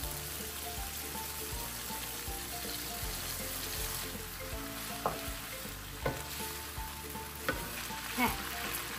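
Noodles and vegetables stir-fried in a pan sizzle steadily, with periodic scrapes and clacks of the spatula punctuating the continuous frying hiss; no one speaks.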